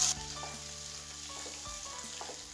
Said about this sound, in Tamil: எண்ணெய் காஞ்சதுமே இதில் நம்ம அரைச்செடுத்து வச்சுருக்க மசாலாவை சேர்த்துடலாம்